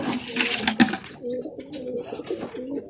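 Pigeons coo in their loft with soft, repeated low rolling calls. A brief louder flutter or knock comes near the start, and the calls continue steadily and close by.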